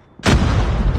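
A frag grenade detonates in Call of Duty Mobile, one sudden loud booming blast close by, followed by a heavy rumbling roar that holds for the rest of the second.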